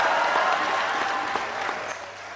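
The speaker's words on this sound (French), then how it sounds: "applaudissez pour les femmes Bangantais." Stand-up comedy show crowd clapping, a brief burst of dense, steady applause that tapers slightly toward the end.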